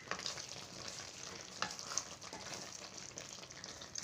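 Drumstick kootu (murungaikkai kootu) being stirred in a pan with a spoon, giving a soft steady sizzle and scraping with a few louder clinks, close and alone without talk.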